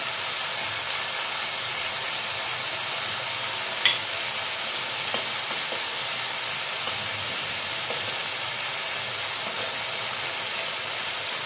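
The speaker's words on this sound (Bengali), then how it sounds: "প্রথমে দিয়ে দিচ্ছি রসুন বাটা" Garlic paste sizzling and frying in a pan while shrimp are cooked in mustard sauce; a steady, even hiss with faint stirring clicks runs throughout, close up and without talk.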